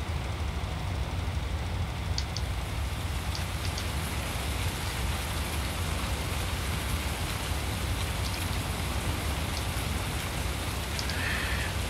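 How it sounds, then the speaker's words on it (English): Steady rain falls across farmland in the Farming Simulator 19 video game, a dense continuous hiss of drops with faint ticking patter, unbroken and even for the whole stretch. "And it started to rain,"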